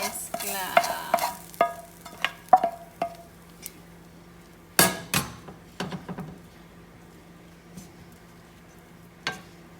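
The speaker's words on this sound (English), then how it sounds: "Now we are going to mix it all together." Arroz con pollo is mixed together in a pot with a spoon, bringing a series of sharp scraping clatters, a cluster at first then sparser knocks, close against a faint low hum.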